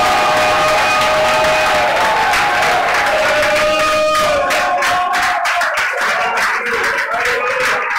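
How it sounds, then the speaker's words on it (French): A church congregation at a teaching service cheers, shouts and claps in loud sustained acclamation, with sung and voiced tones rising through the crowd noise before it thins into scattered claps and calls. "Que ceux qui connaissent le Seigneur l'acclament."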